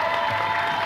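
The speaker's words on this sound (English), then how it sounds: "that's okay, you can clap if you'd like." Audience clapping at a live Borderlands 3 gameplay reveal, a brief dense wash of applause from a crowd, steady and moderately loud.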